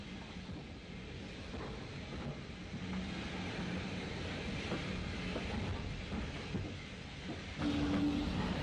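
A 1960s Irish train rolls in toward Belfast Great Victoria Street station past a semaphore signal gantry, a steady rumble and rail hiss holding throughout and growing a little louder near the end.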